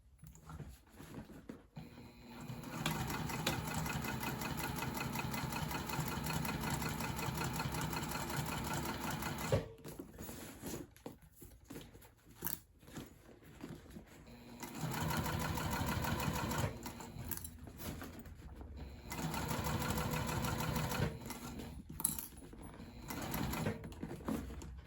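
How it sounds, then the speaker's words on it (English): A sewing machine top stitches a tote bag, running in long steady bursts of rapid mechanical whirring, close up, with short pauses and fabric handling between runs. "I'm going to continue sewing where my thread started screwing up on me."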